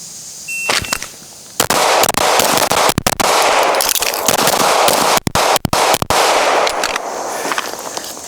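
Gunshots fire in quick succession during a shooting drill at targets out to 25 yards, loud sharp cracks in irregular bursts and pairs with short pauses between strings, close by and with no talking.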